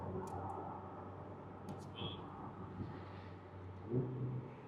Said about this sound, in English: But this, because it's a twin turbo, it's kind of muffled and doesn't get that loud V10